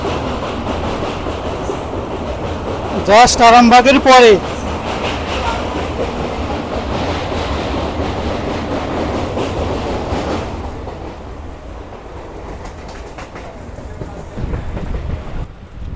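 A Howrah–Goghat local train rolls across the Dwarakeswar river after Arambagh. A steady, close rumble with wheel clatter carries a brief loud tonal burst around the fourth second, then eases quieter near the end. A voice speaks briefly.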